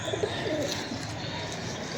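Teddy-breed pigeons give a few soft coos near the start, faint and brief against a quiet background hum.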